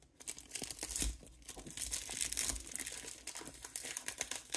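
Cellophane wrapping crinkles and tears while a Banana Republic Modern fragrance box is unboxed, a close, busy run of irregular crackles and rustles with no talking.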